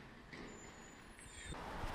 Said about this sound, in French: Ouais, juste là, il y a encore un véhicule